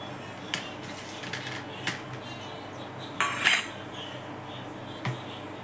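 A knife cuts sweet-and-sour jelly into pieces on a plate, giving several soft clicks and light taps with a brief metallic scrape midway, faint and close, under a quiet room background.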